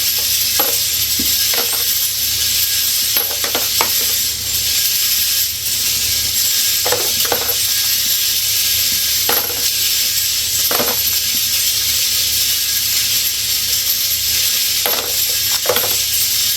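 A Game Changer brass sorter tumbles .45 cartridge cases, giving a steady loud mechanical whir and rattle, punctuated by scattered bright metallic clinks as cases drop off the end.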